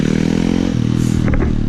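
Motorcycles ride past nearby outdoors on a mildly warm day, a steady engine drone with a rev and some rattling clatter, loud and close.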